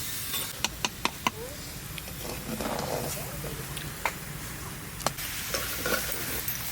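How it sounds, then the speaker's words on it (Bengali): Greens are stirred in a frying pan over a continuous sizzling hiss, with a few sharp utensil taps against the pan early on and later. "এবার আমি নাড়া দিয়ে দেবো শাকটা ভালো করে মিশাই দেবো"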